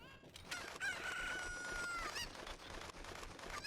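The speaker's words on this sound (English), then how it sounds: "Where's the other chicken?" A rooster crows in a Zelda video game, one long drawn-out cock-a-doodle-doo with clucking around it, moderately loud over a faint game background.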